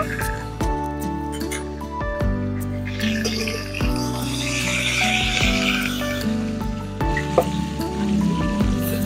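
Pieces of pointed gourd (potol) frying in hot oil in a kitchen pan, a steady sizzle with drips and clatter of utensils running throughout, no talk.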